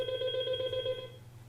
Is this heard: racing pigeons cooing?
no